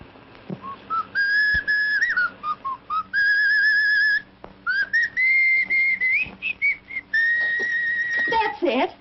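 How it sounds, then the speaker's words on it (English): A man whistles a wandering tune softly to himself, phrases starting and stopping over about nine seconds with brief gaps, in a 1938 Hollywood mystery setting. "the man who grabbed me in Althea's dressing room whistled, softly, half to himself"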